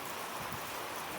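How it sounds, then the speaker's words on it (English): Wind-driven rain falling outdoors in the woods at an off-grid barn build site, a steady broadband wash of rain and gusting air, fairly quiet and continuous with no voices. "That wind is terrible. The wind and the rain."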